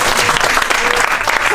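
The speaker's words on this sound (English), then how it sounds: "let's have a big round of applause, please" An audience applauds a magician at a cabaret show, with loud, dense clapping that fills the room from start to finish.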